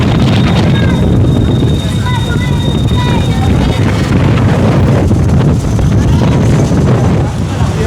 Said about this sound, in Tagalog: Lakas ang hangin, babagsak na ulan.